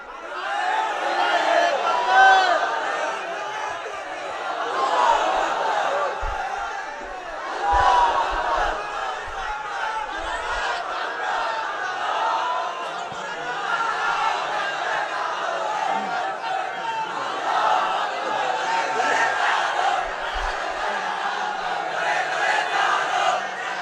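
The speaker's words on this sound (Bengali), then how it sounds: "স্লোগান লাগবে। স্লোগান দেন একজন।" A gathered crowd at a religious gathering chants slogans in unison, voices rising and falling in repeated waves across the whole stretch, fairly loud and continuous.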